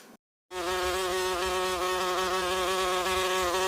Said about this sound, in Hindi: मक्खियों की भिन भिन